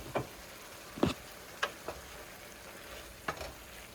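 Beef bolognese sauce with grated Parmesan simmers on medium-high heat, a faint bubbling hiss broken by a few scattered soft pops and spoon scrapes, with no voices.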